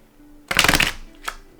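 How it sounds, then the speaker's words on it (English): A quick riffle of thin but firm tarot cards being shuffled, a dense burst of soft flapping clicks followed by a short tap. "So it's actually really comfortable to shuffle"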